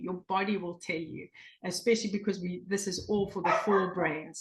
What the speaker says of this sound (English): you can hear my dog in the background there